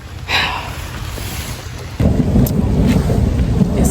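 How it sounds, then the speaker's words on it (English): Heavy rain pours and thunder rumbles loud and close during a storm at a campsite, a dense continuous roar that surges stronger halfway through, with wind buffeting the microphone. "I know y'all hear that thunder and lightning."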